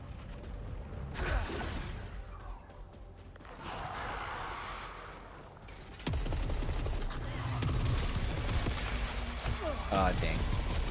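A 15-round gun fires in the video game Saros, giving short bursts of sharp shots at the start, the middle and the end over a mechanical game background, with a voice speaking beneath.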